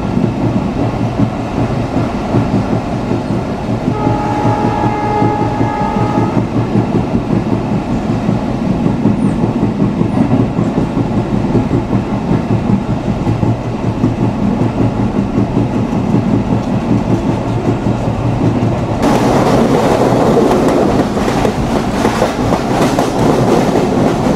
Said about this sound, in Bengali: ট্রেন পার করছে ফুলতলা স্টেশন।